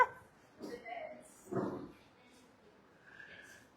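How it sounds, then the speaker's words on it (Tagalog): Several pet dogs at a Philippine home give short yips and a soft whimper under a voice, with scattered brief calls that are faint and intermittent. "ang daming aso namin dito"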